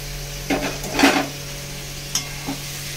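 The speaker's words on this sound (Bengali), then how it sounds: "এবার সব কিছু একসঙ্গে মশলার সঙ্গে ভালো করে মিশিয়ে নেব।" Shrimp and banana blossom with spices being stirred in a pan, a few clustered spatula scrapes and knocks against the metal over a low sizzle, close and loud, with no talking.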